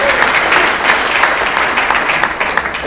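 Sustained, fairly loud applause from a concert audience at a jazz big band show, dense and steady for the whole stretch with no talk over it.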